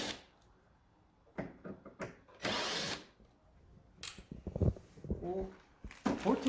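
A power drill whirs in short bursts while undoing the fixing bolts on the front panel of an LG Whisen air conditioner, with clicks and handling knocks in between and someone talking over parts of it.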